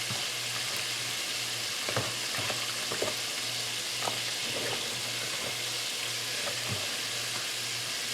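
Battered shrimp fry in hot oil in the style of Essex, Massachusetts, giving a steady, moderately quiet sizzle with scattered crackles and pops throughout.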